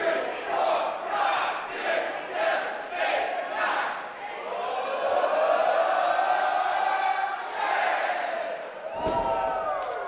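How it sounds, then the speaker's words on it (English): An independent pro wrestling crowd chants in loud rhythmic bursts, then roars in a sustained cheer, with a sharp impact thud near the end, everything up close and dense. "When the crowd's chanting and counting to 10"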